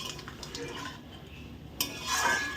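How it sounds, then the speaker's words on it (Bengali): A spoon scrapes and clinks in a pot as crab masala is stirred and fried with splashes of water, quiet clatter giving way to a brief louder hiss near the end. "এক চামচ করে জল অ্যাড করছি আর মশলাটা কষিয়ে নিচ্ছি"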